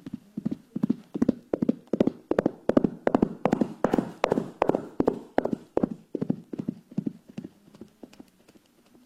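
Foley footsteps imitating someone walking in a forest land as an even run of about twenty muffled, thudding steps over a prepared surface, close and rhythmic, with no talking.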